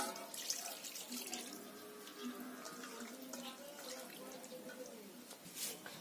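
Water poured into beef in a cooking pot: a faint, steady splashing trickle with small drips, running several seconds under low background noise.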